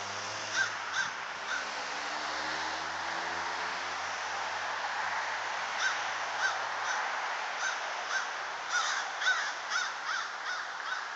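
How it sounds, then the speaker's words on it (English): A crow chasing off a large owl outdoors caws again and again in harsh, rhythmic bursts over steady wind-like hiss, and a low horn-like drone fades out early on. "Freaking crow just attacked it."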